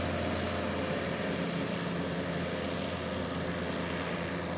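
A small propeller airplane taking off, its engine drone steady and moderately distant throughout, with no voices over it.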